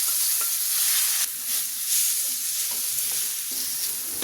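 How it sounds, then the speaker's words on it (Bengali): Meat frying in hot oil in a pan, a bright continuous sizzle up close with occasional light knocks and stirring sounds. "তেলটা গরম হয়েছে, এখন আমি মাংসটা দিয়ে দিচ্ছি।"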